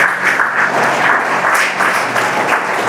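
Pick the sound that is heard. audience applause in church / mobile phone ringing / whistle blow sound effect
audience applause in church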